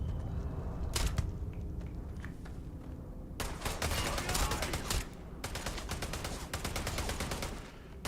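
Gunfire in Starfield combat: a couple of sharp shots early, then dense rapid bursts of automatic fire in two long stretches, fairly loud against the game's background.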